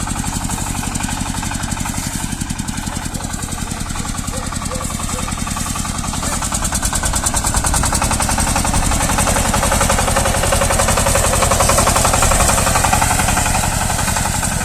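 A Shifeng 240 small tractor engine runs with a rapid, steady diesel chugging and knock, loud and close, continuing unbroken for the whole stretch.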